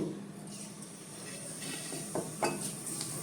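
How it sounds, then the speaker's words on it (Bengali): Nigella seeds hit hot mustard oil in a pan while preparing hilsa fish. The result is a soft, steady sizzle with a few light stirring scrapes, fairly quiet and without voices. "তেল গরম হয়ে গেছে, এবার কালো জিরে দিয়ে নেব"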